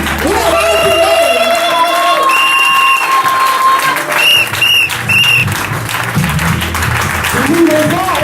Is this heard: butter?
no